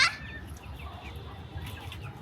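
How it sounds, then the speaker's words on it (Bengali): A young hen gives a short, loud cluck at the start, then softer, low clucking murmurs continue faintly for a couple of seconds. "এই যে সুন্দরীর মতো মুরগিটা দেখতেছেন, এটা হচ্ছে সুন্দরীর বাচ্চা।"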